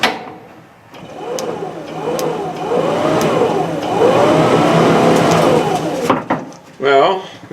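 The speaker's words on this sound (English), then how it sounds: "we know the blower motor works" A blower motor in a 1978 Mercury Marquis whirs steadily for several seconds, its pitch rising and falling in waves, with a few clicks and a short rattle near the end.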